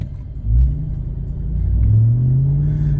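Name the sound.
Ram TRX truck engine and exhaust in regular mode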